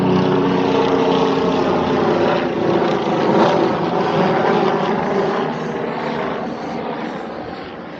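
A helicopter's steady rotor drone passes overhead on a mountain hiking trail near Hatta, loud at first and gradually fading as it moves away.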